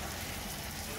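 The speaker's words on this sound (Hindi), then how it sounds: "आज यूके का वेदर ज़बरदस्त किस्म की माशाल्लाह बारिश हो रही है" Heavy rain pours outdoors over a garden in the UK, a dense, steady hiss that stays even and close throughout with no voices.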